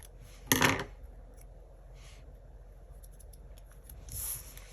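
Scissors snip through a paper planner sticker, one crisp close cut near the start, then a fainter snip and a soft rustle of paper at the end, quiet and without talk.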